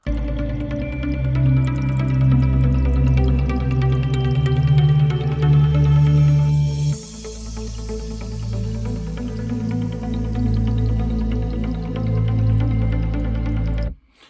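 A looped music track extended in Ableton for a live set plays steadily and loudly with a sustained bass and melodic layers; around the midpoint the texture shifts abruptly as the loop restarts, slightly less smooth, and continues to the end.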